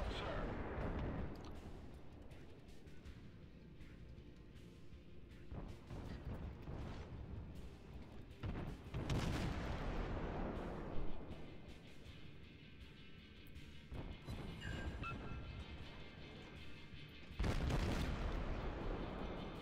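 Artillery shells strike a warship in a World of Warships naval battle, heavy booming impacts and explosions rolling over a constant rumbling din, with bigger hits near the middle and end.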